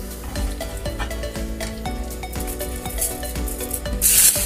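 Aluminium foil is crinkled and rubbed as it is wrapped around a rolled food roll in a kitchen, close, irregular rustling and crackling with a sharp burst of crumpling near the end.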